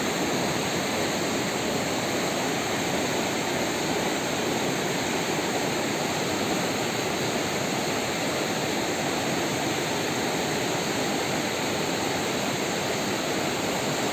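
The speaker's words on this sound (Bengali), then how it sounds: "এ পাশে হচ্ছে একটা ফরেস্ট আর এ পাশে হচ্ছে নদীটা বয়ে যাচ্ছে" A river rushing beside a forest homestay near Darjeeling, a dense, constant roar of flowing water that fills the whole stretch at an even, loud level with no voices.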